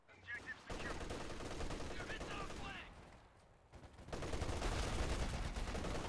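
Heavy .50 cal machine gun fire in Company of Heroes 2, a 1v1 battle of German OKW Sturm Pioneers against US forces, rattling in dense sustained bursts with a brief lull mid-clip before the gunfire swells louder again.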